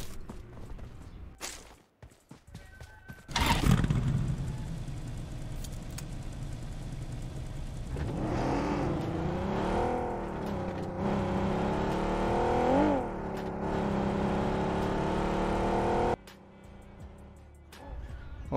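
A car engine revs up and drones at steady speed in PUBG Mobile on the Livik map, pitch wavering as it accelerates and turns, loud and close, with brief game clicks before and after.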